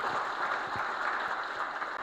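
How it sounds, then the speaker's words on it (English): An audience at a partners conference in Makueni, Kenya, gives a dense, continuous round of applause, many hands clapping at once in an unbroken wash of sound for the whole stretch. "a hand clap for Martha and our family."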